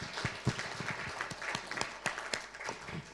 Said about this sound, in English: let me also put my hands together to clap for the great participants we've had in this meeting